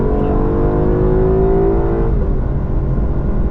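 Loud Lexus engines rev and accelerate steadily with a rising whine on the Laguna Seca racetrack, then the pitch shifts as the cars pull away, continuous motor roar throughout.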